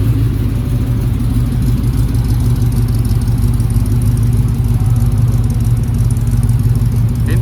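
A Chevrolet El Camino's V8-type engine runs steadily at a cars and coffee meet in Dubai, a loud, continuous low rumble close by with no talk over it.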